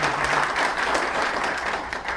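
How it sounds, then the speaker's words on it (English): A forum audience gives a round of applause to a real estate broker being introduced, a full, even roar of many hands clapping together, fairly loud and unbroken. "Let's give Scott a round of applause."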